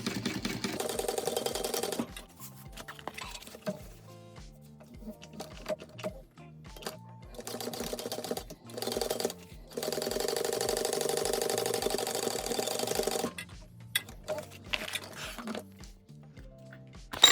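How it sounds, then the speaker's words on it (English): A sewing machine stitches the side seams of a handbag, bursts of rapid even needle clatter broken by short pauses, close and clear with no talk. "And now let's sew up the sides."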